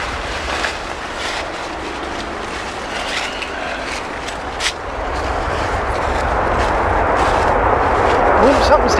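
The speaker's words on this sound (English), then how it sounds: "Ooh, something's taking off. Holy shit, that's loud." Aircraft taking off near an airport, a broad, loud roaring rumble that swells steadily toward the end, with outdoor noise and a voice under it.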